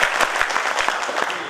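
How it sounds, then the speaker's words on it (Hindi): Audience applause at a Hindi-language party gathering in Delhi, a short burst of clapping close by with sharp claps standing out over a steady patter. "जी तालियां।"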